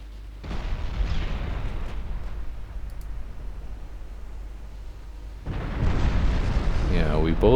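Heavy battleship guns fire in a naval battle in Ultimate Admiral Dreadnought, with deep rumbling booms that roll on continuously and swell louder near the end.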